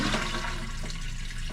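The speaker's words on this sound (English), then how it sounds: "And flush it down." An RV toilet flushes with chemical treatment added to the water, giving a steady, close rush of swirling water that holds level throughout without pause.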